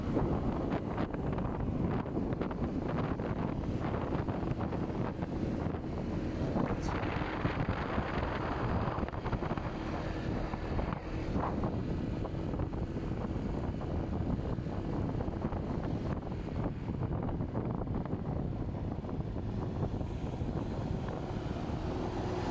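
Strong wind buffets the microphone continuously while riding a Honda PCX 160 scooter toward Baguio, a loud rushing roar with a low rumble of motion underneath and no voices.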